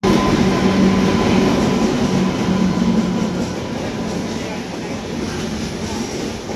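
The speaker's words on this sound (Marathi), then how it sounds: "नंबर 11वर गाडी येते कोकण कन्या एक्सप्रेस" The Konkan Kanya Express rolls into a station platform with a loud, steady rumble of wheels and carriages that eases slightly partway through, while people talk in the background.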